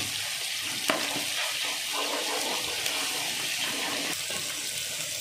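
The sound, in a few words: curry leaves and ginger-garlic paste frying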